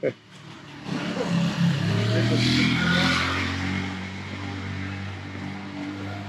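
A motorcycle engine hums and revs in a street in Rocinha, Brazil, rising to a steady close drone then easing off, with voices speaking over it.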